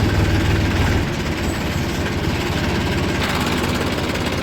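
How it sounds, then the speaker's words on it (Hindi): Several tractors idling and creeping slowly in a queue at a sugarcane token point, a steady low diesel rumble close by with no talk over it. "4-5 ट्रैक्टर चल रहे हैं धीरे धीरे"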